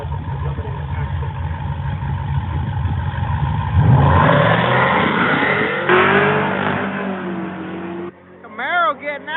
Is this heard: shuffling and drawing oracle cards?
no